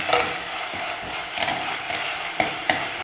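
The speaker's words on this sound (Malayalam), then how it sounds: "വെളിച്ചെണ്ണയിലേക്ക് നമുക്ക് പച്ചമുളകും ഇഞ്ചിയും ഉള്ളിയും കൂടി ക്രഷ് ചെയ്ത് വെച്ചേക്കണത് ഇടാം." Crushed green chili, ginger and onion sizzle and fry in hot coconut oil, with a steady close crackle and occasional stirring clinks and scrapes of the spoon in the pan.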